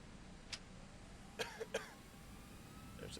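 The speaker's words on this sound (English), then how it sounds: "There's a cough again." A few short, faint coughs sound at scattered moments over a steady low cabin hum aboard an A320 airliner about to take off.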